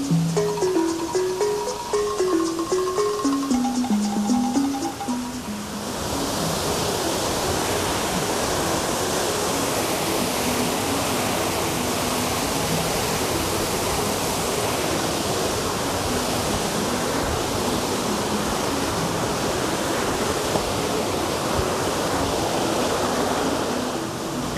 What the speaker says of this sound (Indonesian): suara jatuhan air di tengah-tengah hutan yang sepi